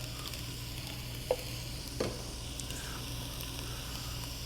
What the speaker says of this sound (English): going to go ahead and add my bell pepper and onions. That lets you know your pan's nice and hot